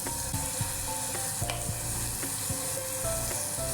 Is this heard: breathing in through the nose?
no